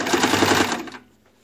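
Sewing machine stitching along the edge of a lined girl's dress, a fast steady needle chatter for about a second, then stopping abruptly into near silence.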